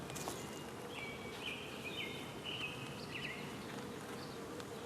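Honey bees buzz steadily around an open hive during an inspection of lumpy comb, a continuous insect drone with a few brief higher whines from individual bees passing close.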